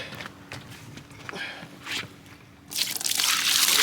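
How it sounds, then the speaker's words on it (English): Water poured from a bucket over sealed aluminum-cased LiFePO4 lithium batteries, starting with scattered drips and splashes, then a loud continuous close pour that runs to the end. "Let's pour that back over the other one, over the batteries."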